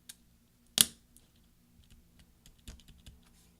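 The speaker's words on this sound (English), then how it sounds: "push down until you hear several snaps" Replacement escape key pressed onto the keyboard of an Early 2011 13-inch MacBook Pro (MC700), giving one sharp plastic snap followed by a few faint clicks, close up with no talking.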